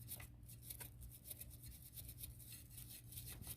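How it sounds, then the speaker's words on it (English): A thermostat housing surface on a 2008 Chrysler Town & Country is scrubbed clean by hand, a quiet, rapid scratchy rubbing in short repeated strokes, close up and faint, with no speech. "you want to scrub this surface down,"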